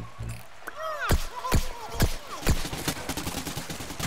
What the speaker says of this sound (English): Who the heck is shooting me?